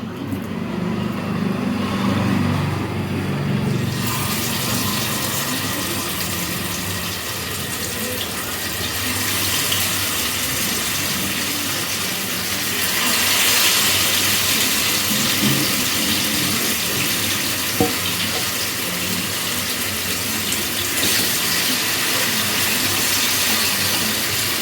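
Fish fries in hot oil for a home-cooked Sunday meal, giving a close, steady sizzling hiss that swells sharply once the pieces go in and then carries on evenly.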